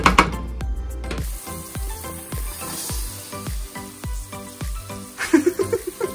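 Onions sauté in a pan with a soft, continuous sizzle, mostly under louder backing music with rhythmic percussive hits.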